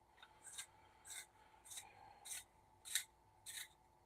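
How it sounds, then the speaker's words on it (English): A Blackwing graphite pencil turned in a two-point hand sharpener gives about seven short, crisp rasping scrapes in an even rhythm, close and quiet, with silence between strokes. "I'm going to use my 2-point sharpener for this one"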